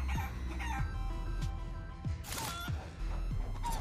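Chicken clucking in the video game Guacamelee! 2: repeated short clucks and squawks over busy game music and effects, steady and fairly loud across the whole stretch.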